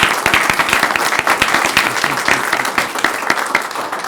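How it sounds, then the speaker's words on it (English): A room full of people applauds at a county board meeting of the Anoka County Board of Commissioners, with steady, dense clapping that holds at an even level throughout. "So I think they deserve a round of applause."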